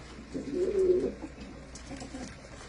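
Pigeons at a village sarpanch's house give a soft, close coo lasting about a second, followed by fainter murmuring calls over low background hum.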